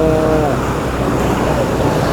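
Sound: sea waves stirred up by a passing ship

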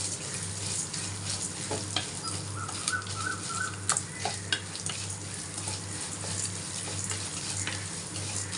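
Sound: coriander seeds roasting in a pan

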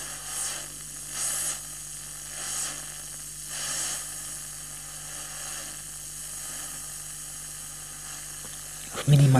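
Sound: static hiss from a self-built FM radio

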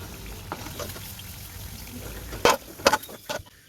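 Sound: maida flour snacks deep-frying in oil

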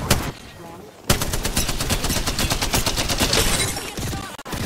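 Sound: gunfire in the video game Apex Legends

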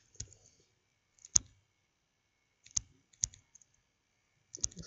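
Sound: computer mouse clicking

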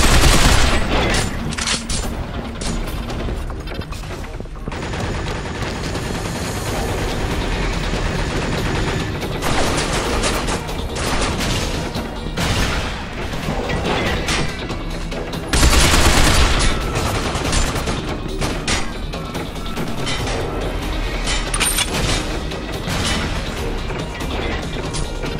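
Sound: gunfire in the video game Binary Domain

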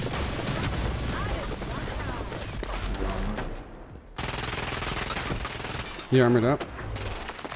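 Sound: gunfire in the video game Hyper Scape

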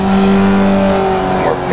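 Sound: Formula Vee car engine downshifting, iRacing video game

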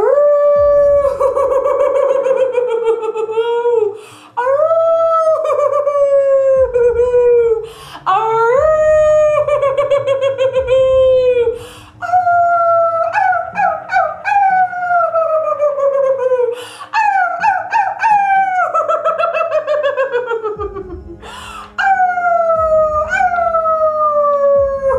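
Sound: person imitating werewolf howls

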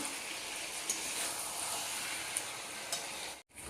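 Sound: mutton curry masala crackling as oil separates

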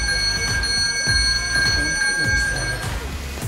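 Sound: smart wallet alarm ringing

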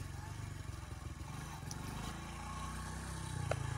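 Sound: motorcycle engine running while learner works the clutch

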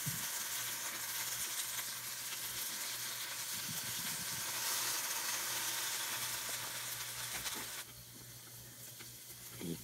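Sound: salted Japanese mountain yam pan-frying until browned

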